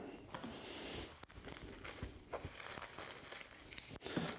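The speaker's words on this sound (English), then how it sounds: "It's nice to kind of just be able to take the cling film off" Crinkly plastic rustles and crackles up close, with sharp tearing snaps scattered throughout, fairly quiet and continuous.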